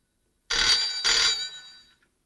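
A telephone rings twice in quick succession, loud and close, each a bright electronic trill, the second fading out. No voices.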